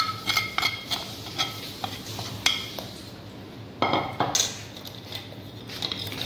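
Flour being stirred into chocolate puto batter in a bowl: steady scraping and swishing of a utensil against the bowl, with a few sharper clinks, close and fairly loud.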